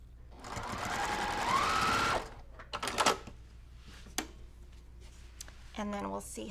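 A sewing machine stitches fabric over pins while piecing a quilt block, a close, rapid mechanical whir lasting about two seconds, followed by clicks and handling noises and a brief voice.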